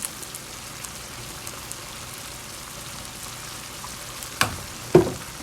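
Guyanese-style BBQ pork ribs sizzle on a grill with a steady, rain-like crackle, then two sharp clunks near the end as pieces are set down.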